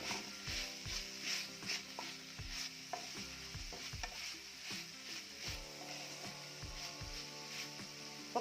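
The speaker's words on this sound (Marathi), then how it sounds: "आता यामध्ये जे खोबरं किसलेलं ते घालते आणि पुन्हा हे छान मिक्स करून घेऊया." A winged bean stir-fry with grated coconut being stirred in a pan, quiet rhythmic scrapes and knocks of a spatula over a soft sizzle.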